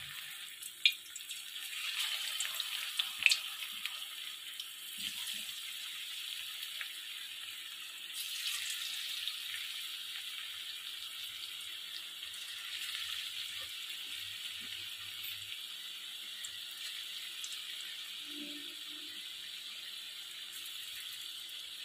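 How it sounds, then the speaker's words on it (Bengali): Taro peel fritters (bora) frying in hot oil, a steady bright hiss and crackle that carries on throughout, with a few faint clicks and knocks near the start. "এবার আমি বড়াগুলো আস্তে আস্তে করে ছেড়ে দেবো তেলের মধ্যে"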